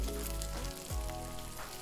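Singapore rice noodles sizzle and crackle as they fry in a hot pan, a steady close hiss with light stirring scrapes and no talk.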